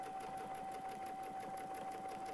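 Sewing machine stitching steadily with a Westalee Spin E ruler, a fast even needle clatter and motor hum running continuously at close range.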